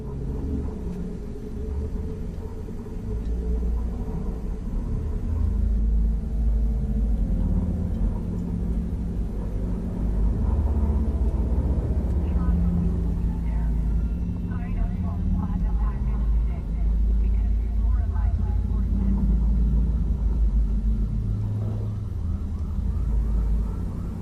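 A flying vehicle in Cyberpunk 2077 gives off a steady low engine rumble that holds for over twenty seconds, with a synthetic voice and faint electronic tones over it.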